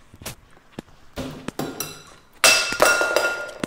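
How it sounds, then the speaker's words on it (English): A glass object is knocked onto a hard floor and survives: scattered light knocks and taps build to a loud, bright clatter with ringing clinks that fade, heard up close in an indoor room. "I knocked a glass thing on the floor, and it didn't break"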